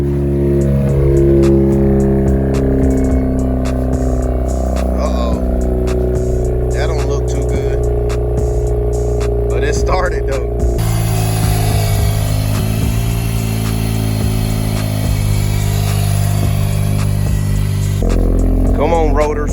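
A rotary-engine project car idles while warming up, a steady loud drone with a shifting tone partway through and a voice talking over it now and then.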